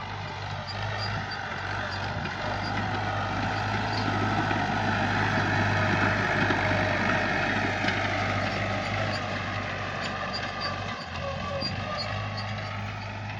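Tractor engine running steadily while discing a field of virgin grassland, a loud continuous diesel drone with rumbling low end, rattling and a faint high whine, with no break for its whole length.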